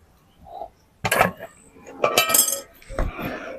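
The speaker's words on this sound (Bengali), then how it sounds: "এবার দুধটাকে এইভাবে নেড়ে নেড়ে একটুখানি ঠান্ডা করে নেবো" A spoon scrapes and clinks against a pot of hot sweetened milk in a home kitchen, in a few short bursts of metal contact with quiet gaps between them.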